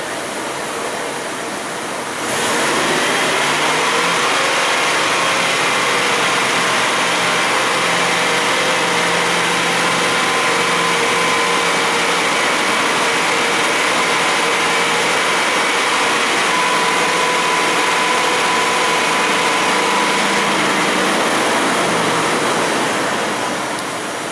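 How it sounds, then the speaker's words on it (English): Dodge Ram 1500 idling with a misfire, a loud, steady engine drone holding for over twenty seconds after a short quieter start, no talking. "It's obvious looking at this tailpipe that we have a misfire."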